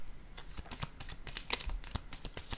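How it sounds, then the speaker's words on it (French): A card is drawn from a deck, with a quick run of soft, close paper flicks and clicks over quiet background noise, and no talk. "Je vais piger une carte ici."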